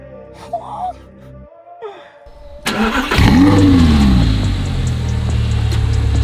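An Audi R8 with its exhaust open starts up after a quiet moment. It catches with a loud burst and revs sharply, then settles into a deep, steady idle up close.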